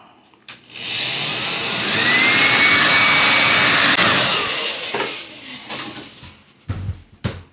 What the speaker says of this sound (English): I had to steal the wife's hairdryer, so let's go and get that heated up